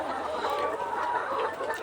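Around twelve hundred layer hens on a poultry farm cluck together in a dense, continuous chorus, with no voices.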